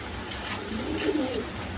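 Male Rajgola pigeon cooing close by, a soft low burbling call rising and falling over steady background noise, with no talk.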